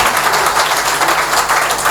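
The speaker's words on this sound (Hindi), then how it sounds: "एक बार जोरदार तालियां पीछे तक बजा दीजिए।" An audience applauding in a hall during a heroic Hindi poetry recitation: dense, steady clapping from many hands, loud and continuous throughout with no voices over it.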